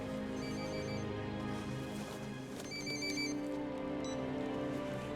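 A telephone rings in short repeated bursts, mid-level, over a steady low rumble and background noise inside a building in Los Angeles during a major earthquake.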